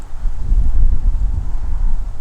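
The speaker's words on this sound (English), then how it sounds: "oh, the windy wind." Gusty wind buffets the microphone on an outdoor archery course, with a low, rumbling roar that swells and eases.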